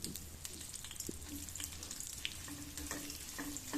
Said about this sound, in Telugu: ఇలా స్పూన్తో కలుపుతూ ఫ్రై చేసుకోవాలి.